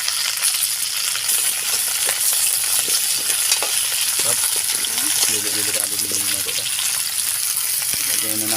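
Squash slices drop into a hot cooking pan and fry, a steady broadband sizzle with stirring and scraping throughout, while a voice talks over it.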